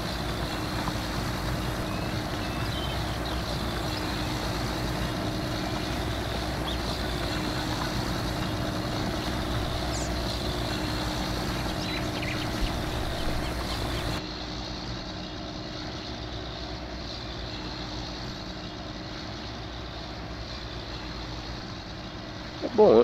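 A John Deere 9R tractor engine drones steadily while plowing in Farming Simulator 19, a continuous loud low rumble with a faint hum, dropping slightly in level partway through and running under occasional talk.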